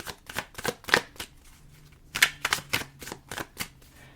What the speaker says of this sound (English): I'm gonna do 5 shuffles.